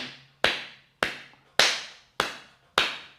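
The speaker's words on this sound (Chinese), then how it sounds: "就是拍手拍手" Five sharp, solid hand claps made with fingers spread and palms meeting flat, in a steady, evenly spaced rhythm, each ringing briefly before the next; close and clear with no talking.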